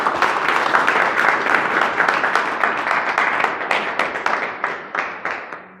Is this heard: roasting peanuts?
no